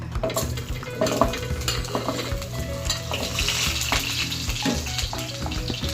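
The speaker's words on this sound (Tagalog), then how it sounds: "prituhin naman natin unahin natin itong carrots" Carrots frying in a pan of oil for goat kaldereta with coconut milk, with a steady close sizzle, scraping stirs and occasional clinks of a utensil against the pan throughout.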